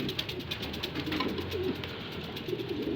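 Pigeons coo softly in a loft, low repeated throaty calls that sound fairly close but quiet over steady background hiss.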